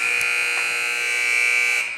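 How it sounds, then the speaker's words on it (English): A loud, sustained electronic buzzer sounds on its own for about two seconds to end the third quarter of a boys varsity high school basketball game in a gym, holding steady and then fading slightly at the end. "there is the buzzer"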